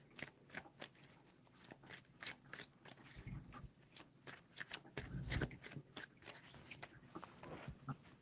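Tarot cards being shuffled close up, quiet crisp riffling and flicking in repeated bursts, soft and intimate with no talk.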